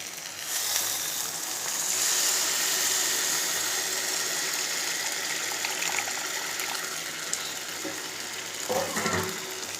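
Tamarind juice pours steadily into a pan for several seconds with a continuous gushing hiss. A brief clatter comes near the end.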